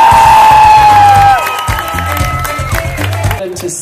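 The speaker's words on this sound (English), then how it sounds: "keep the applause going for all your stars up here." An audience at a hypnosis stage show applauds and cheers with whoops, loud and close, as a high tone fades out at the start.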